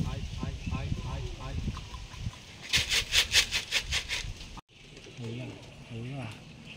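Rajshahi Giribaz racing pigeons coo in a loft. Their soft throaty calls come close by, alongside a burst of rapid rhythmic flapping and some human voice.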